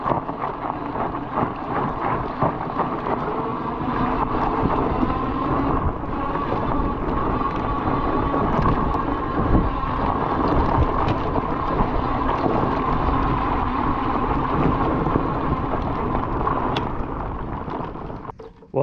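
A Timber Trail hunting eBike climbs hills outdoors, its steady motor whine and tire rumble mixed with heavy wind buffeting the microphone, loud and continuous throughout with no talking.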